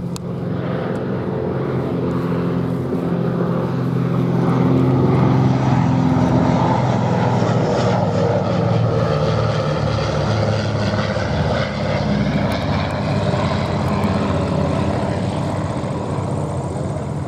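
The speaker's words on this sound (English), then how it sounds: "These aircraft are just turning away." A vintage Avro Anson twin-engine propeller aircraft flying at a Duxford air show, a loud sustained propeller drone that swells and slowly shifts in pitch as it passes, with no talking.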